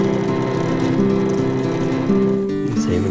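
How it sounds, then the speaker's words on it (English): A power drill bores a hole in a knife sheath, its motor whining at a steady pitch with a short dip in speed near the end, close and loud. "What I do is I drill the hole."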